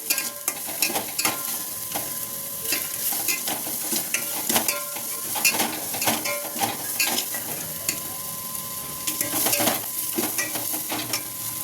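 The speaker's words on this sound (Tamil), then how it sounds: "நல்லா வதக்கணும் நல்லா வதக்கிக்கணும்" Mutton curry masala sautéed in a pan, a continuous sizzle broken by frequent sharp scrapes and clicks of a spoon stirring against the metal, close and without speech.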